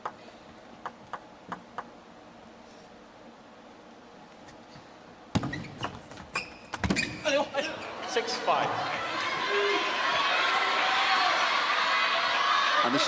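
Crowd at a men's singles table tennis semifinal in Singapore, sparse ball pings early, then a sudden surge of cheering and applause that swells into a loud, sustained roar.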